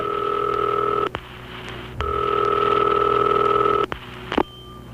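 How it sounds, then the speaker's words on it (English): A telephone dials 911 as three long, loud DTMF tones, separated by clicks, followed by a short final beep and click. "You know, I've never actually dialed 911, never had to."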